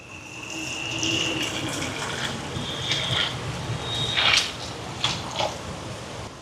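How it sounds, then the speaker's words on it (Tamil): Water pours steadily into a pot of washed lentils being readied for cooking, a continuous close gushing fill with a few brighter splashes and drips toward the end, with no talking. "இப்போ இந்த பருப்புக்கு தேவையான அளவுக்கு தண்ணி சேர்ப்பேன்"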